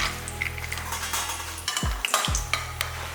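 Cashew nuts fry in hot oil for a chana masala paste, sizzling steadily up close while a spoon stirs and scrapes the pan in a few distinct strokes.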